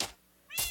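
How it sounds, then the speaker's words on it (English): Two short cat meows from Minecraft, one at the start and a brighter, louder one near the end, separated by near silence, with no talk. "Okay, we have all the cats."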